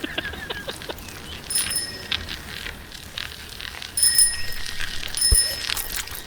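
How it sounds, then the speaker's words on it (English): Bicycle-style bell rings chime in short bursts inside the video game Genital Jousting. Two or three clusters of bright dings sound clearly over light background noise. "Are you ringing the bell?"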